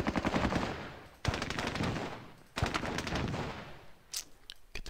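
Sustained automatic gunfire from the Squad Battles war game, dense rapid bursts loud and close, broken by two brief pauses before the firing resumes, with no talk over it.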